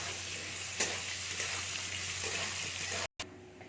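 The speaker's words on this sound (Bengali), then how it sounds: "আলুটাকে আমি ভালো করে ভেজে নিচ্ছি।" Potatoes fry in a pan with a steady, close sizzle and crackle, plus a few faint clinks near the start and a brief cut near the end.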